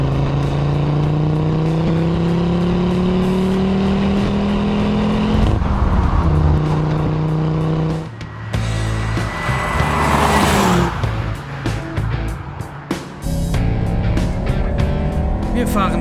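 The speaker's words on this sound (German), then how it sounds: "So muss es sich anhören. 5 Zylinder," An Audi Quattro five-cylinder engine with all-wheel drive runs loud and close, its steady drone rising and falling in pitch as the car accelerates and shifts, with a rushing burst midway.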